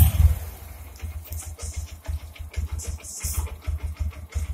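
A Bajaj Boxer pickup's engine runs at a steady idle after being started, with a continuous low rhythmic chugging throughout and some mechanical rattle layered on top.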